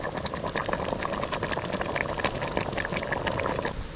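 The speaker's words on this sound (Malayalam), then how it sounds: "ശർക്കരയെ കൂടി കിടന്ന് നന്നായിട്ടൊന്ന് തിളക്കട്ടെ." Jaggery syrup bubbles at a rolling boil for temple-style kadumpayasam, a dense, continuous bubbling and popping close to the pot, without speech.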